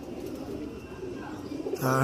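A pigeon kept at home coos softly nearby in a brief, low murmur over quiet background noise, ending in a short, clearer burst.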